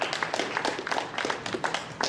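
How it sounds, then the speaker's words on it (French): Audience applause at the Geneva Gaming Convention, a dense steady patter of many hands clapping throughout, fairly close and continuous. "S'il vous plaît, vous pouvez les applaudir bien fort."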